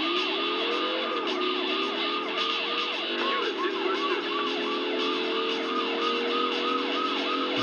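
A police siren wails steadily and continuously in the PlayStation driving game Driver 2, cycling loudly over a constant engine hum with no voices.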